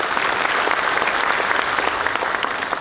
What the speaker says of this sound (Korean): 이분들을 위해서 박수 한번 보내주시죠.